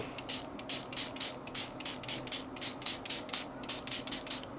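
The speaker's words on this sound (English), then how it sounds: "So you spray it all over, make sure it's good and wet." A spray bottle is pumped repeatedly in quick rhythmic bursts, each a short hissy spritz, close and fairly quiet, wetting a tablet surface before applying a carbon-fibre vinyl skin.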